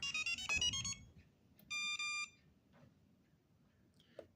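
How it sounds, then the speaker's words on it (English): A remote control lawnmower, the EGN EG800, gives electronic beeping tones: a rapid cluster of bright beeps followed by a steadier sustained beep, then quiet background hum with faint clicks. "I don't know what this beeping is"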